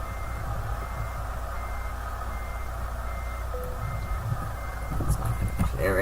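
Truck reversing beeps in a video game, a steady repeating tone over a constant low engine drone, with brief clatter near the end.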